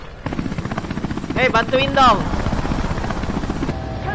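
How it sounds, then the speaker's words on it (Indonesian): Helicopter arriving in the video game Resident Evil 5, a steady rotor drone close and loud throughout, with voices talking over it. "Wah, helikopter udah datang nih."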